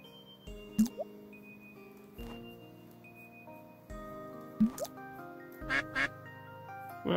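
Several close, distinct quacks come from ducks being fed bread, spaced irregularly with brief pauses between calls against a calm outdoor background.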